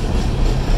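A long freight train pulled by four locomotives rumbles past close by, a steady, loud low roar of rolling wagons with no other sound over it.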